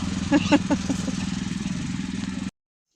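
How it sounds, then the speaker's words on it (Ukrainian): A small livestock trailer vehicle rolls up nearby at a low, steady idle, its engine droning through the whole stretch before cutting to silence, with a voice speaking briefly over it near the start. "Так, їде скотовозочка з нашим шашличком"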